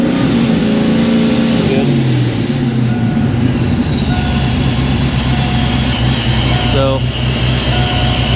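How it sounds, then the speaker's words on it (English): Foxbody Mustang with a 347 V8, revved and held in a garage, its exhaust drone rising and falling in pitch throughout, close and loud, with a brief spoken remark over it. "Give it a little bit of a rev. Hold it, rev it up."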